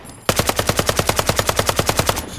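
An SKS rifle in the game Incursion Red River fires full auto in a single rapid burst of about twenty sharp, evenly spaced loud shots lasting around two seconds.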